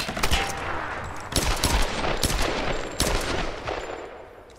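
Rapid bursts of gunfire from the Tomb Raider video game, several loud volleys spread across the span with sharp cracks and dense repeated shots, no voices.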